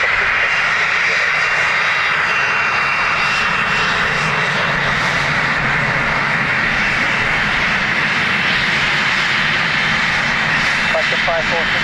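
An airliner takes off at Dublin Airport, a loud continuous engine roar and rumble that stays strong throughout, close and dominant, with speech faintly present.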